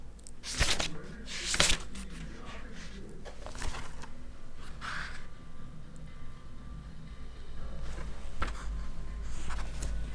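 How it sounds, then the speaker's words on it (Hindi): Questions written on a board, heard as a few sharp scratching strokes and taps of the marker or chalk against a steady low background hum in a classroom, with no clear talking. "मैं इस टाइप के और भी क्वेश्चन आपको लिख दे रहा हूँ"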